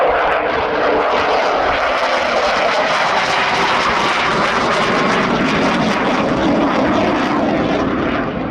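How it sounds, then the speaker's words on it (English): Aerobatic aircraft at the RIAT air show flying high-speed display manoeuvres, a loud, continuous engine roar that stays strong and steady throughout. "throttling, now pulling, setting up for the high-speed pass"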